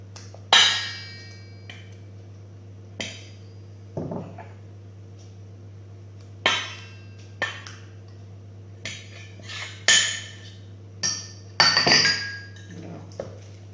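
A utensil clinks against a bowl while goat cheese, eggs, fromage blanc and butter are mixed, making sparse, crisp knocks and clatters at uneven intervals over a steady low hum.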